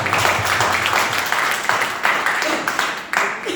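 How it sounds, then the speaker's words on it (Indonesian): An audience at a motivational training day claps in a sustained burst, filling the hall with dense, even applause that rises in a few swells. "Tepuk tangan buat pertanyaan."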